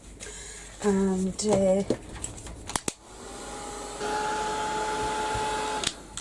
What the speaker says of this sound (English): I think my heat gun's on the way out.